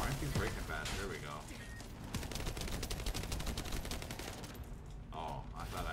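Rapid bursts of gunfire from a video game fill the whole stretch, sharp repeated shots in quick rhythm at steady loudness, with players talking over the shooting.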